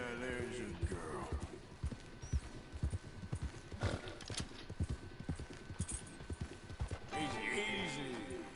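A horse in the Red Dead Redemption 2 game clops along with quick, rhythmic hoofbeats. Shrill whinnies and snorts sound near the start and again at the end, all close and fairly loud.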